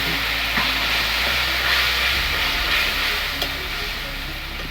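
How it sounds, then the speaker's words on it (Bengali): Cumin and ginger paste frying in a pan for a vegetarian Bengali raw-jackfruit curry, a steady close sizzle with occasional stirring scrapes and a low background hum, no talking. "এবার জিরে আদা বাটাটা দিয়ে একটু ভেজে নেবো"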